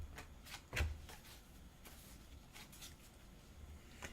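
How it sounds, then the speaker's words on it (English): Soft papery slides and taps of tarot cards being cut and drawn from the deck, one sharper snap standing out among faint rustles, close and quiet with no talk. "let's go ahead and cut and pull 3 cards out"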